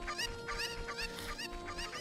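Chickens in Zelda: Ocarina of Time cluck in repeated short bursts over a steady hum of game music, several birds close together and lively.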